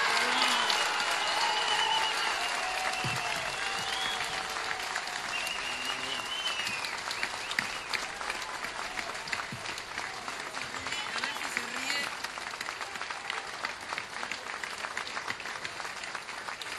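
Crowd applauding loudly at an outdoor Frente Amplio political rally in Las Piedras, Uruguay, steady sustained clapping mixed with cheers and shouting voices throughout, with an announcer's voice carrying over the crowd.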